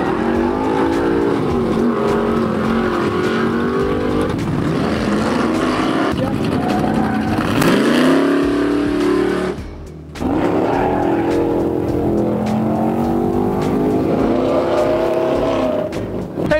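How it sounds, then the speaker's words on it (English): Street rod engines roaring at a drag race launch during a 2014 street rodding event in Herington, Kansas, with loud sustained revving, a rising pitch sweep, a brief cut near the middle, then another strong engine roar. "We're gonna open it up, we're gonna lay on some rubber"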